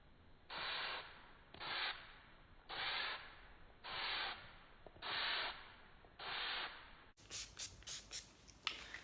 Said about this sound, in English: we're gonna go in with a little bit of a spray